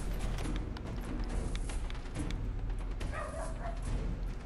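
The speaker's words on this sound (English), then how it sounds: "There's dogs barking upstairs." Several dogs barking in an upstairs room, heard indoors as muffled, repeated yips and barks scattered through a steady background.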